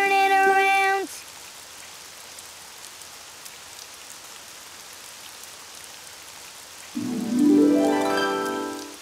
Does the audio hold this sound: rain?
yes